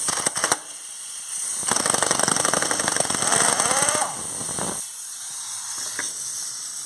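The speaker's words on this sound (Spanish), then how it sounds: "Vamos a aflojarla con una pistola automática." Impact wrench loosening the clutch nut on a Bajaj Avenger 220 motorcycle, a loud rapid hammering rattle lasting a few seconds after brief clicks, with a steady high compressor hiss throughout.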